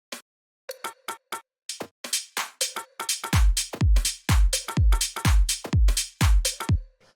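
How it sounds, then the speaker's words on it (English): A programmed tech house percussion pattern from a drum rack: sharp drum hits starting sparse and building into a steady, punchy groove with deep booming kicks, loud and upfront. "So this is all the percussion from the track."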